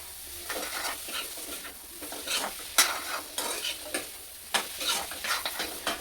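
Chopped spices fry in a pan before jackfruit flower goes in, with a light sizzle under repeated sharp scraping strokes of a stirring spoon, close up and without speech.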